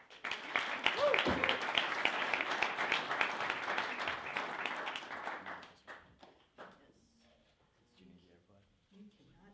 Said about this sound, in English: please do give her a round of applause